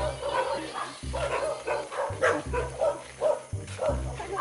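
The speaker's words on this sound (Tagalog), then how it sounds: "Daming aso." Several dogs bark at night during a spider-hunting outing in the Philippines, sharp repeated barks in close succession, with one or two voices talking briefly between them.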